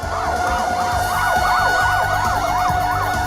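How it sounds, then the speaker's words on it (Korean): Korean fire department vehicles, including a command car, chemical truck, fire engines, rescue truck and ambulances, arrive at a disaster-response drill with sirens wailing loud and close, the rising and falling tones overlapping over a steady engine rumble. "출동 지령을 받은 영덕소방서의 지휘 본부차와 화학차, 불절차, 구조 공작차, 구급 차량들이 지금 사이렌을 울리면서 신속하게 도착하고 있습니다."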